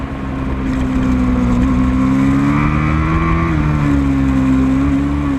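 Novice superbike racing motorcycles passing on the Grattan track, a loud sustained engine roar with a rising and falling whine as the bikes go by close, filling the whole stretch with no voice over it.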